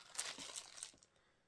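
A flat plastic bag crinkles in a quiet room, a brief close rustle with a few sharp crackles that fades out within about a second.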